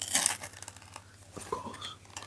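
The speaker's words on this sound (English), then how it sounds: "I'm going to open this box as quietly as I can" A LEGO Christmas tree box is opened gently up close, with soft tearing, faint crinkling of cardboard and plastic, and small scattered clicks in a quiet room.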